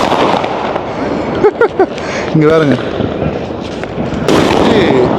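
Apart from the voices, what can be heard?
firecrackers bursting in a Chennai street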